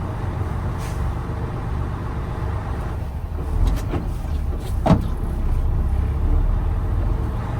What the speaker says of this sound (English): I'm going to downshift into first gear.